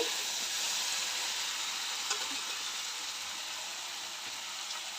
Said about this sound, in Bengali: এরকম বন্ধুরা এই যে আমার মাছের শিম আলু কষানো হয়ে গেছে